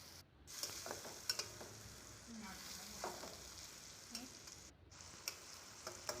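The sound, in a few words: sautéing spice paste with cumin, coriander and chili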